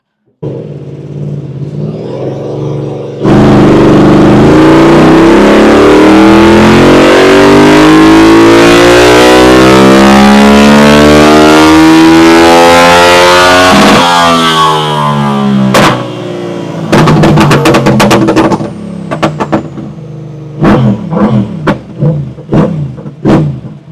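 A Yamaha R7 sport bike fitted with an Akrapovic full-system exhaust and remapped ECU roars through a long, loud sustained rev that rises and falls, then several sharp throttle blips crackle out, close and with no voices.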